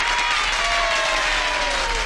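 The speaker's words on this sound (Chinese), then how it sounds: "谢谢各位同学的掌声" Classroom of students applauding a new teacher, a continuous wash of clapping at steady loudness, with a faint sliding tone running underneath.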